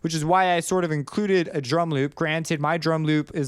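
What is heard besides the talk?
No everyday noises stand out.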